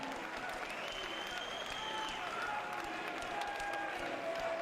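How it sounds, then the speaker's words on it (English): A crowd at an amateur MMA featherweight title fight applauds both fighters after the bout, a steady, distant wash of clapping that stays fairly quiet and even throughout. "a round of applause for both our warriors"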